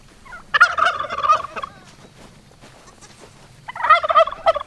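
Free-range farm turkeys gobble loudly and close by, in two rattling bursts, one near the start and another near the end, with quieter farmyard background between them.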